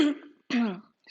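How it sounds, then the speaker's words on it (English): A single short throat-clearing cough followed by a second rougher one, close to the microphone. "A little bit of cough."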